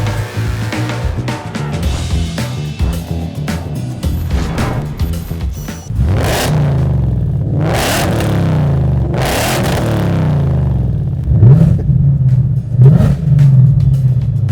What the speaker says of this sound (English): having some fun testing out our new 3-inch exhaust for the S550 Mustang